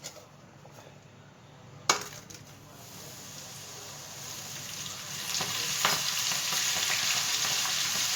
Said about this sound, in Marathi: आता हे कॉर्न आपण तळून घेणार आहोत